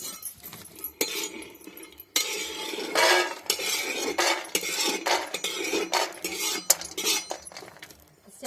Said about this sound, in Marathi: आता आपल्याला शेंगदाणे भाजून द्यायला चालू आहे